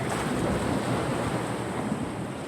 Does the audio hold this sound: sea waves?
yes